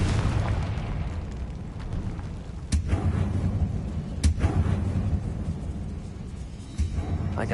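A Confringo fire spell from Hogwarts Legacy bursts with a rumbling boom, followed by sharp cracks and a continuous roaring, thunder-like wash of game sound.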